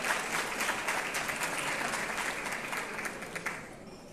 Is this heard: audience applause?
yes